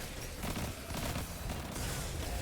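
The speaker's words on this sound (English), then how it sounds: "Oh, that's a cursed explosion." An explosion in the video game Destiny, a sustained rumbling roar of blast noise with crackling bursts, loud and dense throughout and heard without any talking.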